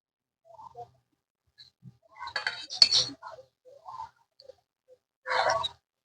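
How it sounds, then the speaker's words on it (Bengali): Duck meat stirred with spices in a pot by hand, heard as a few sparse metallic clinks and scrapes of a spoon against the pot, close but quiet, separated by near silence, with no speech. "মশলার সঙ্গে মা মাংসটা খুব ভালো করে নাড়াচাড়া করে নিয়েছে"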